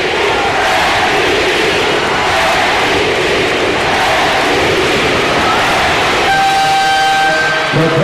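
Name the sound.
basketball arena capacity crowd chanting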